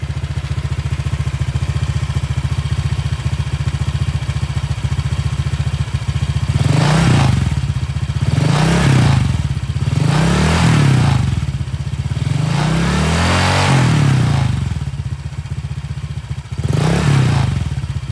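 A Honda Vario 125 scooter engine running on Castrol Power 1 Ultimate oil idles loudly and steadily, then gets five short, sharp throttle revs that rise and fall, with no talking.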